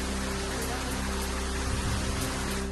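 Heavy monsoon rain pours steadily over Mulher and the surrounding area of Baglan taluka in Nashik, a dense continuous hiss with a low steady hum beneath, no voices.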